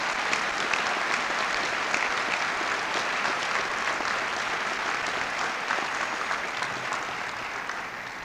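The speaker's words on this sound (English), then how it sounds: "Will you stand up and take the applause of this group?" A large gathering applauds distinguished alumni at a 1975 homecoming event, producing a thick, continuous roar of clapping that stays full and even, then eases slightly toward the end.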